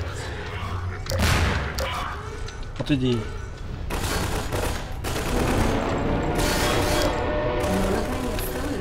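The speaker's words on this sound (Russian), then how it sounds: "Вау, они взрываются." Explosions and gunfire from the video game Half-Life 2: Episode One, with repeated booming bursts and rattling shots across the clip, loud and close, while someone speaks briefly.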